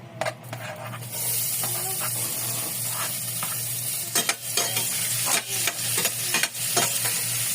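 Onions sizzle steadily in hot oil in a pan, the opening step of a chicken feet Bicol Express, with a constant close frying hiss broken by a few scrapes and clinks of stirring.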